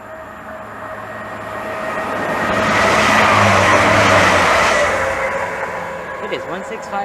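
Class 165 Turbo diesel multiple unit passing through Maidenhead station on the Great Western Main Line, a steady rumbling roar that swells to a peak midway and then fades, with a commentator talking over it.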